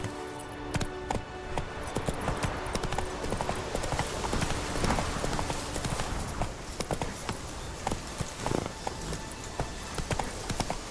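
Horse hooves from The Witcher 3 drumming in a fast, steady galloping rhythm, loud and close, with faint jangling tack and ambient game sound underneath.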